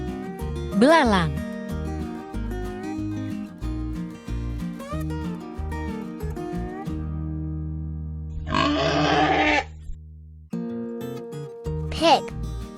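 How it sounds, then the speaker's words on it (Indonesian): Pig grunting comes in as a short, rough, noisy burst set against steady background music, with a few brief bright vocal-like sweeps nearby. "Pig."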